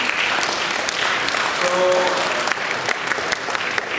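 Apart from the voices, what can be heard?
audience applause for speakers and sponsors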